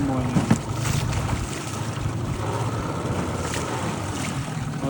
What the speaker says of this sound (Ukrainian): Вітер дує поривами, холодно.